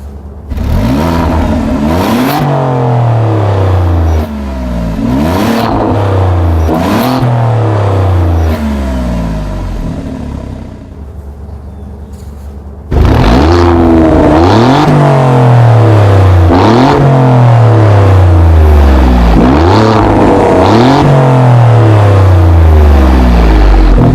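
A 2017 Alfa Romeo Giulia Quadrifoglio exhaust note under hard acceleration: repeated loud revving climbs with each gear change, a short lull and quieter passage midway, then another run of powerful pulls, with no talk over it.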